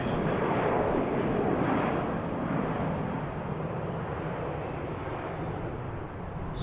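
A departing airliner roars as it climbs out of BWI airport bound for Boston, a loud, steady broadband jet rumble that holds strong before easing slightly toward the end, with no voices over it.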